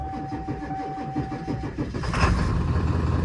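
A diesel Ford F350 truck cranks and its engine catches after a long idle period, glow plugs cycled beforehand; starter churning gives way to a louder, rumbling idle close by, with no talking.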